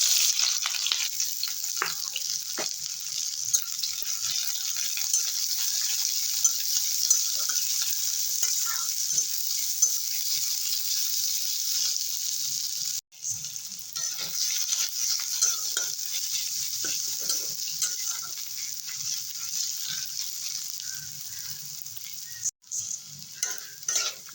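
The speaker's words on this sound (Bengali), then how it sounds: "সর্ষের তেল দিয়ে দেবো দুটো শুকনো লঙ্কা আর পেঁয়াজ কুচি" Dried red chilies and chopped onion frying in hot mustard oil in a wok, a continuous bright hiss that holds steady throughout, with scattered faint stirring scrapes and two brief sharp breaks, near and unaccompanied by speech.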